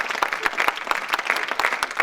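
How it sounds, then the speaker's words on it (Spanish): Church congregation clapping in a brief, brisk burst of scattered hands, moderately close and steady throughout. "¿usted está aplaudiendo? ¿Eso es un aplauso?"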